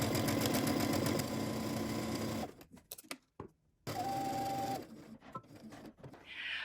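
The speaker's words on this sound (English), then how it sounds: "we're going to head to the sewing machine and we're going to stitch this" Sewing machine stitching a fabric strap at a 5/8 inch seam allowance, a loud steady rhythmic whir for a couple of seconds, then stopping and starting in short bursts.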